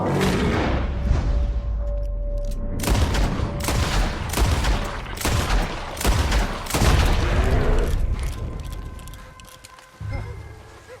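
Gunshots fired at a bear while hunting in Red Dead Redemption 2, a run of loud, close, sharp repeated blasts spread over several seconds with a brief pause near the end, mixed with other game sounds.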